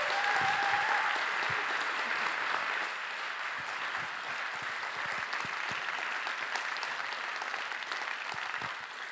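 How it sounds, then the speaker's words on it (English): Steady audience applause fills a hall after a testimony at an Amnesty International lecture-chair award event, a dense even wash of clapping that holds at a moderate level throughout with no voices. "Please give Jutta de Seen a round of applause"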